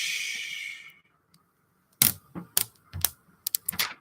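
Protective film peeled from an iPhone 6 screen during an LCD repair: a soft, hissing peel for about a second, then quiet, then a run of sharp crackles and clicks close by.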